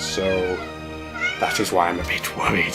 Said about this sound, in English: That's the cat you'll be able to hear